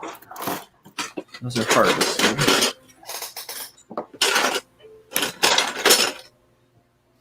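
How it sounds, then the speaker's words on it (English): Plastic Lego parts rattling and clinking in bursts of sorting and rummaging, with short gaps between handfuls and a brief spoken remark mixed in. "Sorry for the Lego noise"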